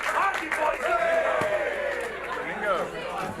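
A wrestling crowd at a Clash at the Beach fatal four-way match cheers and shouts throughout, a dense, lively roar with rising calls, heard under a commentator's voice.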